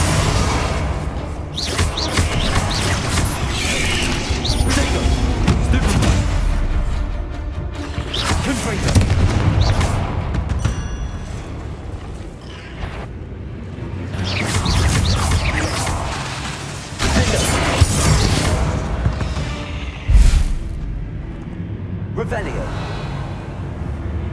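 Confringo blasting spells explode in the video game Hogwarts Legacy, with heavy booms and crashing blasts recurring every few seconds over a rumbling game soundtrack, and a voice talking over them.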